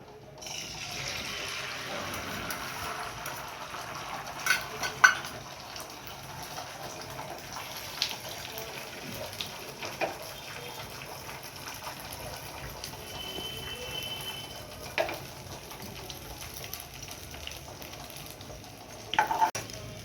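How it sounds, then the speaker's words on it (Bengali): Egg frying in a hot pan for a potato omelette gives a low, continuous sizzle with a few sharper clinks and scrapes, no speech over it. "কড়াইটা গরম হয়ে গেছে, ডিমটা দিয়ে দিচ্ছি আমি।"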